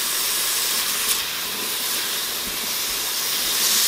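Onion and garlic sizzle steadily in an Instant Pot as venison stew is started, a continuous close hiss of frying with no talk.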